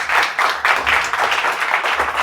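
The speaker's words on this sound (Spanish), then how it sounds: "Un aplauso para Ariel." An audience at a Bitcoin talk claps steadily, a dense, even wash of applause from a moderately sized crowd, with no speech over it.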